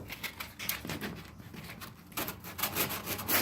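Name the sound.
sanding down a wall to remove paint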